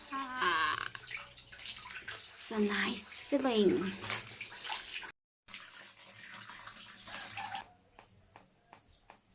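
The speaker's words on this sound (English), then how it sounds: "Time to wash it with clean water to remove the bubbles." Clothes rinsed by hand in clean water in Filipino style, with splashing, sloshing and dripping in a basin, close and fairly loud, broken by a brief pause, while someone speaks over parts of it.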